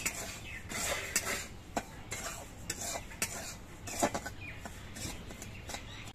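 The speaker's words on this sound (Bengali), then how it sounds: "সুজি দেওয়ার পর অনবরত নাড়তে হবে," Semolina being stirred constantly in a hot wok, with a spoon scraping and clinking against the metal in an irregular rhythm throughout, close up and fairly loud.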